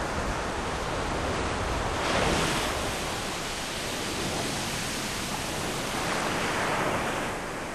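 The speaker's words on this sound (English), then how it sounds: "if you look closely at a wave when it breaks, you'll see that it washes sand up the beach" Ocean waves break and wash up a sandy beach on the Holderness coast. A continuous loud roar of surf swells and recedes in slow surges, with no voices.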